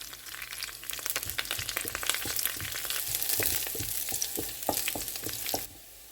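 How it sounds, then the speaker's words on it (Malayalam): Dried chillies, two sprigs of curry leaves and a chopped shallot frying in hot oil, a soft continuous sizzle with crackles and light stirring taps, stopping abruptly near the end. "ഇനി ഇതിനകത്തോട്ട് വറ്റൽമുളക്, 2 തണ്ട് കരിയാപ്പില, നമ്മൾ എടുത്തു വെച്ചിരുന്ന 4 ചെറിയ ഉള്ളിയിൽ 1 ചെറിയ ഉള്ളി ചെറുതായിട്ട് അരിഞ്ഞാണ്, അത് ഒന്ന് മൂപ്പിച്ചെടുക്കാം."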